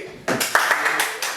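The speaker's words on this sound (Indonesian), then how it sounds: "Tepuk tangan, Bli." A few people clap in a small podcast studio, a handful of sharp hand claps starting abruptly and repeating unevenly at close range, with a voice briefly under them.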